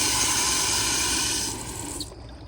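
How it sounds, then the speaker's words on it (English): An American Standard Allbrook urinal flushes at weak pressure, giving a steady close rush of hissing water that fades and thins out after about a second and a half. "But here's another flush with weaker pressure."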